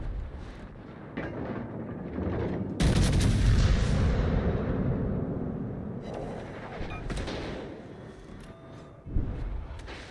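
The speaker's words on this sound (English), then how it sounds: "Let's see if I can give him a double salvo with this reload booster here." A battleship fires a double salvo in World of Warships: Legends, heavy booming gun blasts rolling out with long rumbling decay, then further loud reports and a sharp final thump, close and without talk.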